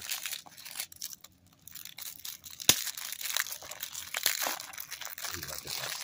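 A Blu-ray disc of Dragonslayer rattles loose inside its plastic case, giving scattered crinkly clatters and a sharp knock as the case is handled up close.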